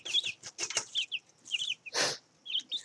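Chickens scratching and pecking around the bottom of a feeder, with soft clucks and chirps, quick scratching bursts and a brief flutter of wings, close by and without talk.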